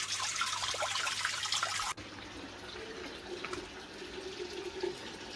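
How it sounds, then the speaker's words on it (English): Water running through a radial flow filter on an aquaponic farm: a steady gush that shifts abruptly to a quieter, continuous trickle and flow. "At this point, you see water is already leaving and entering into the filter and make it clean."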